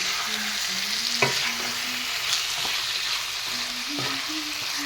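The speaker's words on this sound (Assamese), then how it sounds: "হেতাখনেৰে এনেদৰে তলফৰ কৰি মাংসখিনি মই লৰাই দি দিম।" A spatula scrapes and stirs chicken curry frying in a pan with coriander and cumin powder. It makes a few distinct scraping knocks over a steady close sizzle, with no talking.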